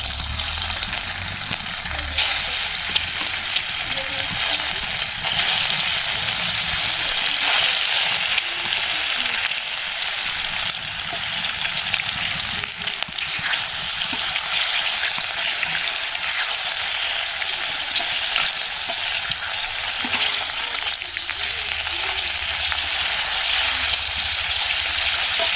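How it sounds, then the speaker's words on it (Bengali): An egg frying in hot oil, a loud, continuous crackling sizzle that holds steady for the whole stretch, with a few faint stirring sounds and no talking. "ডিমটা ভেজে নিব"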